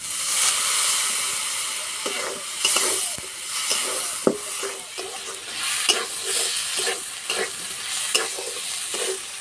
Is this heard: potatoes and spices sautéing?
yes